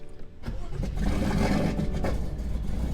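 Starter cranking on a BMW F80 M3 converted to a single turbo with an 8-speed, a close mechanical whirring churn that rises and holds without the engine clearly catching.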